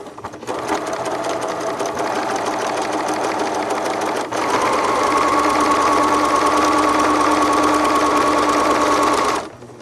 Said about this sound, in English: The first thing I'm going to do is just stitch a line with a regular stitch